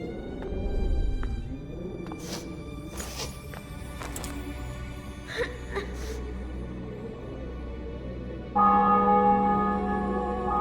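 Church bells ring out in The Witcher 2 after a city and fortress are taken, several loud clangs over a low rumbling game ambience, with a brighter sustained toll swelling near the end.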